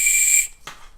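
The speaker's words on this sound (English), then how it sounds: "And then it's got a security whistle, safety whistle here." A safety whistle built into a Nathan VaporCloud running hydration vest is blown once, giving a thin, shrill tone of about half a second that cuts off sharply, followed by a soft breathy puff.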